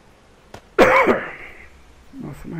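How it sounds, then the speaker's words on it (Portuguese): A single loud, harsh cough bursts out close to the microphone, followed by a brief low vocal sound. "Nossa, mas essa tosse tá fogo."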